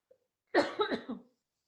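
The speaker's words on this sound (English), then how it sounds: "new microphone and coughing into it" A person coughs close into a new microphone: a short burst of three or four harsh coughs after a faint click, then silence.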